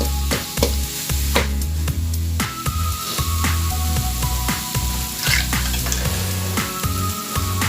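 Northern Thai larb chili paste stir-fried in a pan for a spicy beef-skin salad, a steady close sizzle broken by repeated scraping and tapping of the spatula against the pan.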